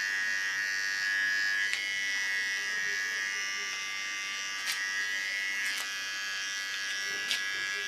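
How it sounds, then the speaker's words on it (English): A small hair clipper trims the contour of an ultra-short nape, giving a steady close buzzing hum with slight shifts in pitch and a few faint clicks as it moves along the hairline. "With a smaller clipper I clean the contour."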